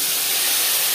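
Whole cumin seeds fry in hot oil in a karai previously used for frying fish, a steady dense sizzle with no voices.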